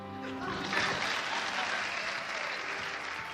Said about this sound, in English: Okay, you can clap now.